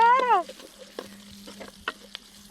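Mustard seeds, curry leaves and dried red chilli frying in oil, a light sizzle with sparse pops and stirring taps close by, following a brief tonal chirp at the start; no talking.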